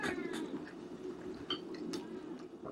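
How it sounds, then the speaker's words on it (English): A house cat meows repeatedly to be let outside, several short cries close by in a quiet kitchen, alone without speech. "whenever we start filming anything, the cat decides he wants to go out"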